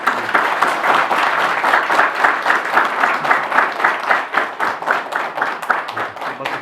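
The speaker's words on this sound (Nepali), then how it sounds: "सबैले थपडी मारिदिनुहोस् है।" Guests at a Nepali Christian wedding ceremony clap loudly and steadily in a rhythmic, near-unison beat that continues throughout.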